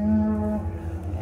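A calf moos once nearby, a short, tonal bawl. It is followed by a low rumbling background from livestock being hauled in the Tennessee mountains.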